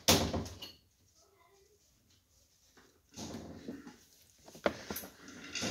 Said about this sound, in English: I'll go shut the door.